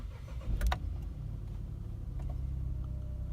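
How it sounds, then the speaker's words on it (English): A car engine starts on a cold winter morning with a short cranking burst, then settles straight into a steady, low idle rumble that carries on close by. "So I'm just gonna go ahead and start my car here."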